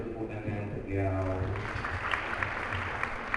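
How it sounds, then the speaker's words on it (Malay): An audience at a talk applauds Imam Muda Nazrul. A speaking voice fades out and soft, fairly distant clapping rises and carries on to the end. "tepuk tangan untuk beliau"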